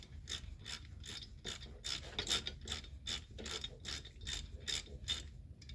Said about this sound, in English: So we're gonna start tightening up these bolts.